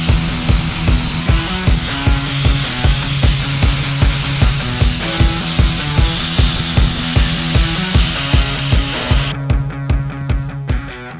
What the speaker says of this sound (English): Use the flap disc and grind this smooth.